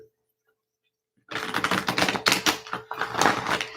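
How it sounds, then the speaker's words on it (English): Shuffling a deck of oracle cards, a close, brisk riffle of rapid flapping clicks that starts after about a second of silence and runs steadily to the end, with no talking. "One more shuffle from the Notes from the Universe deck."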